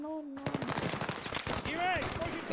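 Rapid gunfire bursts in the shooter game Battlefield 3, dense rhythmic cracks running through the whole stretch, with a voice talking over the shooting.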